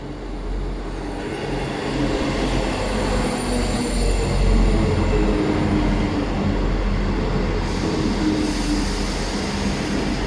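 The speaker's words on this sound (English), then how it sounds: "in comes our train to Cranbrook now" A train to Cranbrook rumbles and clatters into a station near Exeter, a loud, continuous low roar with rolling wheel noise and a faint high whine overhead.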